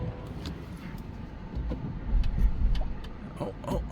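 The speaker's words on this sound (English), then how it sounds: "Man, we are shaking. Clunk, clunk, clunk, clunk, clunk, clunk, clunk." A 2023 Kia Niro plug-in hybrid rumbles along with low, uneven thumps and shaking from its fault, a steady muffled cabin drone with irregular knocks rising and falling.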